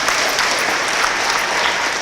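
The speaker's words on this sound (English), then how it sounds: "Give him a round of applause." Dense, steady applause from a school audience greeting a student named at an academic awards ceremony, loud and continuous throughout with no talking over it.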